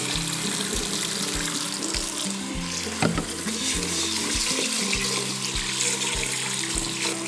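Rice being washed under running tap water in a kitchen, with a steady, close rush of water and faint stirring and splashing throughout, with no talk.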